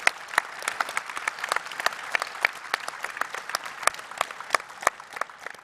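Conference attendees at a tech talk give a round of applause: distinct, individual claps from a modest crowd, sharp and unevenly spaced, with a thin layer of background clapping beneath and no speech.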